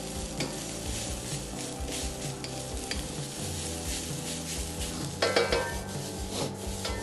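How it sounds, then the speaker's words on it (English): Egg fried rice stir-frying in a pan as the clumped rice is patted down and broken apart, a steady sizzle with scraping and stirring strokes throughout and a brief clatter near the end; no talking. "So just pat it down and break apart the rice."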